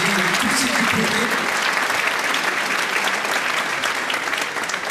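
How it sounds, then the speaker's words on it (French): A crowd applauds graduates in a loud, sustained wave of clapping that fills the room, tapering slightly at the end, with some voices mixed in. "vous pouvez applaudir tous ceux qui peuvent."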